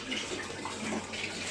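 Hot water spills over the rim of a container and splashes steadily, a continuous hissing, gushing pour close by with no voices.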